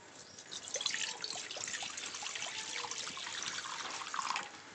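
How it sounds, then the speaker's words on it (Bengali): Water poured into a wok while preparing papaya for homemade tutti frutti, a steady trickling splash running close and fairly quiet throughout with no talk. "পরিমাণ মতো জল দিয়ে দিলাম"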